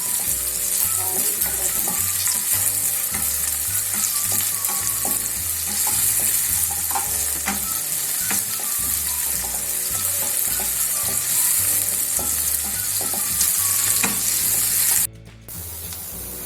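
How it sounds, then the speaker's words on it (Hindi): Chopped medium-size onions sizzle and crackle loudly in hot oil while browning, with continuous frying hiss and occasional stirring scrapes, then the sizzle briefly drops near the end. "ये जो प्याज काटी थी मीडियम साइज की डालेंगे। हल्का सा ब्राउन कर लेंगे।"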